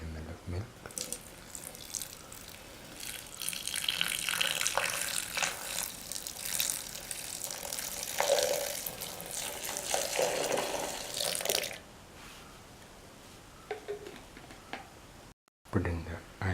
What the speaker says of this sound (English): pour in 400 ml of milk